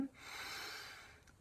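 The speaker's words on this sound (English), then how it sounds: "Breathing into the place, releasing the energy, deep breaths in" A person takes a slow, deep breath in, a soft airy inhalation heard close and quiet over a faint background hiss, with no talking.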